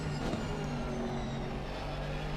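A steady engine roar from inside a race car in Assetto Corsa at Paul Ricard, droning continuously at high revs with a faint whine on top.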